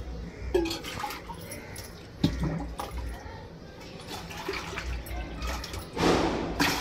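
Water splashes and pours steadily into a vessel of rice mixture for vadiyalu, with a few louder gushes and clinks along the way, close by.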